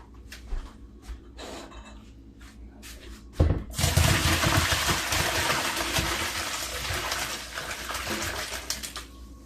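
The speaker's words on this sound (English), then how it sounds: "Water drain off." Water pours and gurgles loudly into a sink after a few soft clinks and knocks, draining off cooked tomatoes, then keeps draining steadily in a rushing wash for several seconds.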